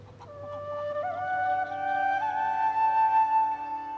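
Chickens in a flock of hens give a clear, fairly loud drawn-out call that rises and wavers in pitch for several seconds, with softer flock sounds underneath.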